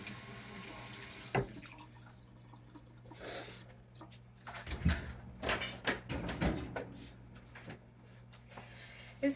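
A kitchen tap runs as produce gets rinsed, the water splashing and spattering in irregular bursts with a few louder splashes, fairly quiet and close.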